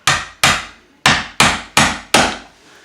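A hammer strikes a chisel six times in sharp, ringing blows at an uneven pace while backer board behind a vanity is being leveled, each hit loud and close with a quick decay.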